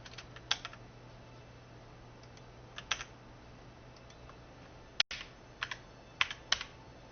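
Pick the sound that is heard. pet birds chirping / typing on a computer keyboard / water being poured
typing on a computer keyboard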